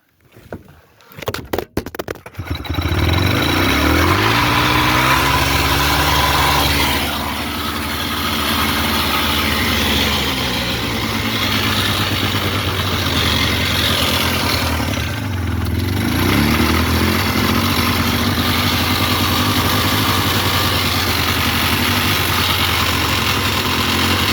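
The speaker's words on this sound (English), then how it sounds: "let me start her up and we'll take her for a test drive" A Polaris quad's small pull-start engine runs and idles steadily close by, a loud continuous rumble with slight rev changes, after a few brief clunks at the start.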